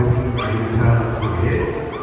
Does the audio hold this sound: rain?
no